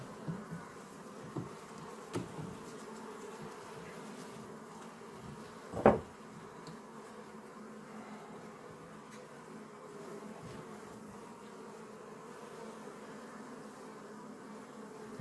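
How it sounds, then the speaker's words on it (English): Honey bees swarm around an open hive during an inspection, a steady close buzzing drone running throughout, broken by a few faint knocks and one sharper thump. "A lot of bees."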